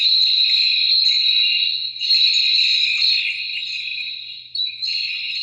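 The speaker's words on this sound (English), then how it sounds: "That sound you're hearing is actually literally just me dragging my feet in the studio." Layered studio recording of feet dragging on a floor, heavily processed into a steady, high, shimmering chirr like insects, loud and continuous with slight wavers and dips.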